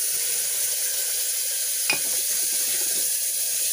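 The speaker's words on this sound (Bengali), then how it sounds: "জল দিয়ে মশলাটা আবারও সুন্দর করে 1-2 মিনিট ধরে কষিয়ে নেব।" Spice paste with turmeric water frying in a pan for a fish-head moong dal, a steady loud sizzle with a single scrape of stirring midway, no voices.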